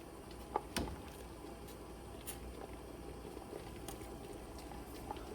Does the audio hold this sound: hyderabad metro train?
no